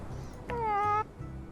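A cat in the video game My Time at Sandrock lets out a single clear, drawn-out meow of about half a second, close and prominent over quiet background sound.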